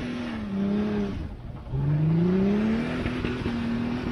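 A Chrysler Crossfire rally car's engine drones and revs on dirt, its pitch sliding down then climbing again as it accelerates, heard from a distance with steady road noise.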